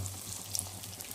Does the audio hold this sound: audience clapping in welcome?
no